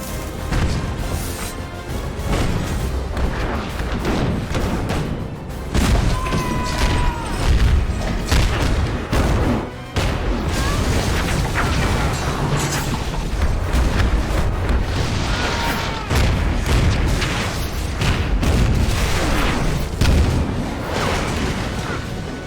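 Cannon fire from ships during a film sea battle: a dense, continuous roar of booms, crashes and rumbling blasts, loud and unbroken throughout.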